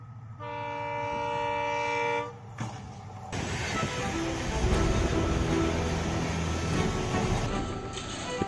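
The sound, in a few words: train passing with bell sounding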